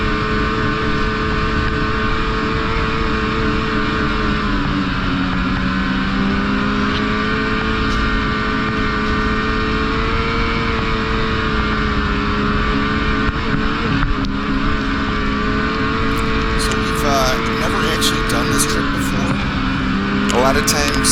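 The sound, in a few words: snowmobile riding on trail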